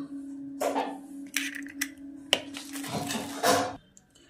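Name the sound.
cracking four eggs into a bowl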